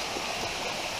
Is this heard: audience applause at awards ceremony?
no